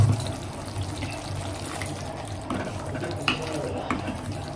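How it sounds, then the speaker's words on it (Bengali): A little water goes into a cooking pan and sizzles with a steady, low hiss and faint stirring scrapes, close and continuous. "অল্প একটু জল দেব সামান্য।"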